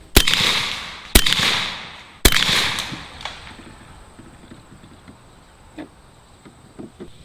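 A Bintac T50 PCP air rifle fires at a target: three loud, sharp cracks about a second apart, each followed by a ringing decay. Quieter small clicks and handling noises follow.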